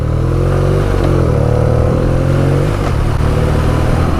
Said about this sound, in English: that's the last time I stopped for a moped